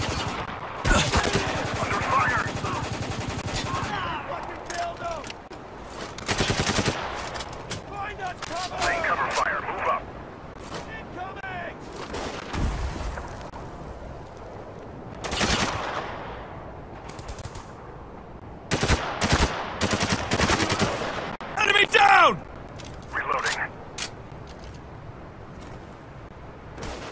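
Dense, rapid gunfire and explosions from the video game Spec Ops: The Line crackle in bursts throughout, with shouted in-game voices mixed in.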